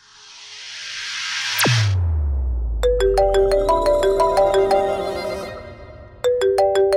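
A phone ringtone rings in a scene from the Hindi drama series Ishqbaaz, a melodic electronic ring that starts after a sharp falling swoosh, repeats in steady bursts, pauses briefly, then resumes loudly and close.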